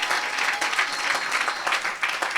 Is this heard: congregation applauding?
yes